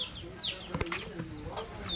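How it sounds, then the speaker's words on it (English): Tiny chickens in Bohol, Philippines, give faint, high-pitched peeps and soft clucks that come and go over quiet outdoor background. "These cute chickens. They're so tiny. I hear a lot more."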